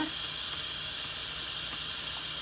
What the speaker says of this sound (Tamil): இனி ப்ரெஷரை ரிலீஸ் பண்ணுவோம்